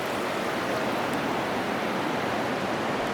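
A river flows near Curacautín in southern Chile, a steady, broad rushing wash of water, close and continuous, with no voices in this stretch.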